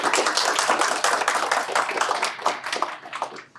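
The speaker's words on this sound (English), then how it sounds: "I'd love to do another round of applause" An audience applauds after a talk on nuclear power, with dense, steady clapping from many hands that holds fairly loud and then begins to thin near the end.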